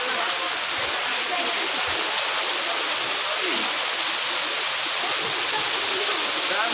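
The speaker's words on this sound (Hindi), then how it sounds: "इतनी बारिश हो रही है और बादल गरज रहा है बहुत तेज़ तेज़।" Heavy monsoon rain pours steadily on the mountain trail between Ardhkuwari and the Bhawan at Vaishno Devi, a dense continuous wash of hiss with no thunder distinctly audible and no talk.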